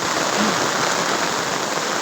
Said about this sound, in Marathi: बघू शकता हो का किती मोठा पाऊस पडत आहे